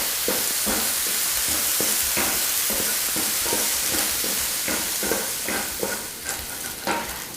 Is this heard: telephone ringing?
no